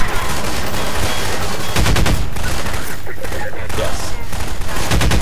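Sustained, dense gunfire from the video game Half-Life 2, with rapid bursts and machine-gun fire that fill the whole stretch loudly and continuously.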